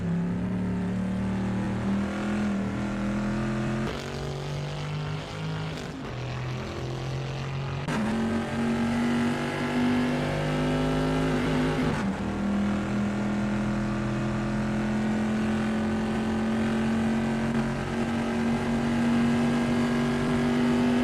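A race car engine roars continuously at Imola in a pre-1973 Italian racing game, the pitch climbing and dropping through gear shifts during a flying lap, loud and close throughout.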